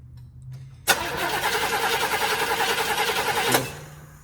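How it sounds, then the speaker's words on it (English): A 1970 Chevrolet Impala engine, unstarted after ten years, is cranked over by the starter: a sharp onset, then a rapid even rhythmic chugging for under three seconds before stopping, close and loud. "he'll spin the motor over for us"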